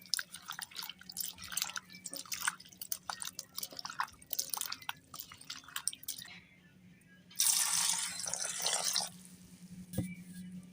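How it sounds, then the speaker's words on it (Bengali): Sago and chopped vegetables are washed by hand in water, with scattered splashes and drips followed by a louder stretch of pouring or sloshing water, fairly close and without talk. "এবার আমি সবজিগুলো ধুয়ে নেব।"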